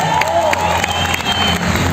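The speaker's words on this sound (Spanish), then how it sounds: "un aplauso para ustedes" A crowd at a Pereira closing event bursts into brief, lively applause mixed with cheers and whoops, loud and close, with a speaker's voice faintly present underneath.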